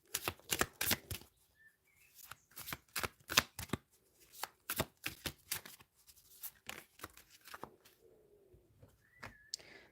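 Tarot cards being shuffled by hand in rapid, crisp bursts of riffling and slapping, close and fairly quiet, with brief pauses between handfuls and faint bird calls in the background.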